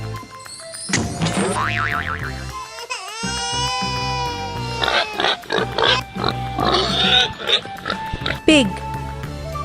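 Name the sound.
pig oinking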